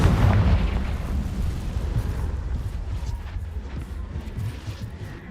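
A Confringo explosive spell goes off in Hogwarts Legacy: a loud, heavy boom right at the start that rolls into a long, low rumbling tail, close and fading slowly.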